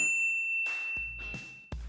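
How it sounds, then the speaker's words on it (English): A bright notification-bell ding rings out, then a few more chiming tones follow in quick succession, clear and fairly loud with nothing else behind them. "ring the bell to get notified about our latest videos"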